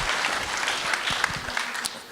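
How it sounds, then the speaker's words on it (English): Parents at a grade 8 school meeting applaud themselves. The clapping is moderate and continuous, with a few low thumps scattered through it. "give yourselves a round of applause, too"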